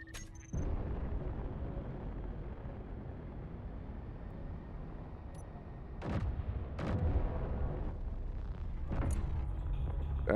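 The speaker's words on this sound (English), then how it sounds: "We have a barrage." An artillery barrage fires in a base-building game, with sharp booming shots at the start, then a cluster of heavy blasts in quick succession over a constant rumbling background.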